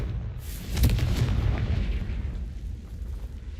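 An explosion from the Confringo spell in a game, a deep rumbling boom that swells quickly and then fades into a low trailing roar.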